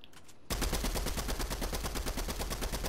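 Rapid automatic gunfire in Fortnite bursts in loud and close after a brief quiet moment, a dense stream of shots continuing without pause.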